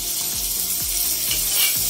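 Cashews frying in half a teaspoon of ghee, with a steady close sizzle and several soft low scrapes as a spoon stirs them now and then.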